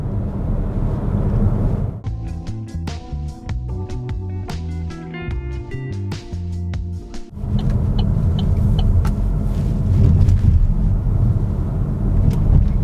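Opel Grandland on a road test, a steady loud tyre and road rumble from inside the cabin, broken midway by a quieter stretch of rhythmic tonal pulses before the rumble returns.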